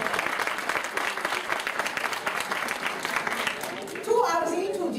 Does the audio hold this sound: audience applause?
yes